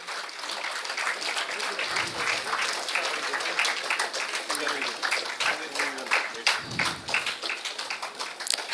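An audience at a college valedictory function claps in a fairly quiet, scattered round of applause, with individual hand claps audible and faint voices murmuring underneath.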